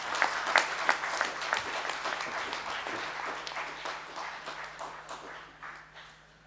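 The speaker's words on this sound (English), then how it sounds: "Can we have a big round of applause" Applause from an audience at a food industry launch event in Bengaluru, a few sharp nearby claps over a broader crowd patter, gradually thinning and fading toward the end.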